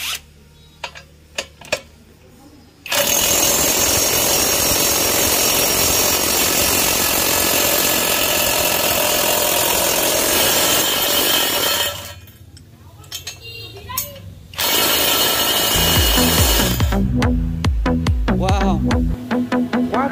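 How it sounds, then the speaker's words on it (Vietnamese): Hukan 520 Nm cordless impact wrench with a 1/2-inch drive tightening a bolt until it snaps, long loud bursts of rapid hammering whir separated by a pause, with a voice talking in the quieter gaps. "con 520 Newton của Hukan để em siết vào xem là con ốc này nó có đứt không"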